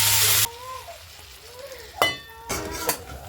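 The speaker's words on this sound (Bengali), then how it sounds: "ভেজে নেব সাজনা আলুটা।" Drumsticks and potatoes frying with turmeric in a pan give a short loud burst of sizzle, then quieter stirring scrapes and clinks of a utensil against the pan, with a couple of sharper knocks near the end.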